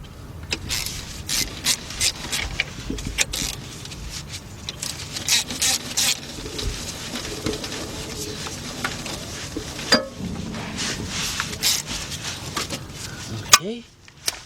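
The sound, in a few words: ratchet taking off a bolt on 1977 Buick LeSabre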